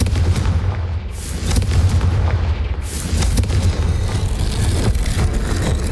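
Fire-spell blasts cast in Hogwarts Legacy, heavy booming bursts over a dense low rumble, with sharp explosive hits recurring throughout and no talk.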